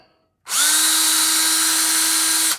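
A power drill on low speed starts abruptly and holds a steady, loud whine as it bores into a sacrificial block of wood, close up with no talking.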